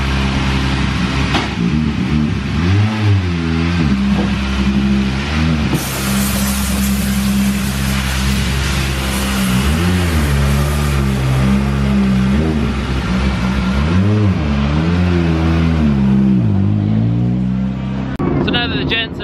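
Rallycross cars at the Silverstone RX final rev their engines hard, with repeated rising and falling revs and loud roaring bursts close by, while a person talks over the din.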